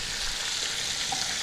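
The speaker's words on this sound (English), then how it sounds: "the residual heat from the oil will continue cooking the pork as well as frying my capers." Capers fry in hot oil in a frying pan alongside breaded pork Milanese, a steady dense sizzle and crackle heard alone without talk.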